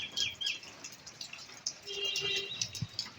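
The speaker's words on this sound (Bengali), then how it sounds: "অনেকগুলো পাখি চলে আসছে এখানে।" Birds gathering at a village home after rain chirp in scattered bursts, light high twitters near and far over a quiet, slightly damp background.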